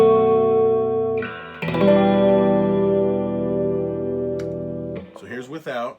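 Electric guitar through a chorus effect pedal combined with overdrive, sustained shimmering chords ringing out with a mild warble, then a brief pause and a few choppier notes at the end.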